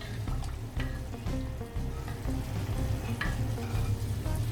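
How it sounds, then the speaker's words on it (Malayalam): Spoon stirring squeezed tamarind juice into a pot of Thrissur-style varutharacha sambar, with continuous close scraping and sloshing and a light sizzle. "അതുപോലെ കുറച്ച് പുളി എടുത്തിട്ട് ഞാൻ പിഴിഞ്ഞിട്ടുണ്ട്, അതും ഒഴിച്ചു കൊടുക്കുക. നന്നായിട്ടൊന്ന് ഇളക്കുക."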